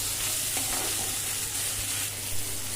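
Chopped tomato frying in oil after onions, stirred in the pan with a steady, dense sizzle and only faint, occasional stirring touches.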